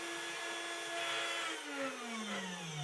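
CNC router carving letters into a wooden plaque, a steady high whine with a tone that slowly drops as the cutter works, fairly close and continuous throughout.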